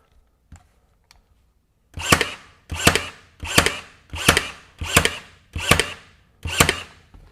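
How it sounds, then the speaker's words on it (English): A RIDGID 18-gauge stapler bump-fires seven times in quick succession, each shot a sharp, close mechanical snap-and-clack at an even pace, preceded by a couple of faint clicks. No one speaks. "just hold the trigger and I can bump fire"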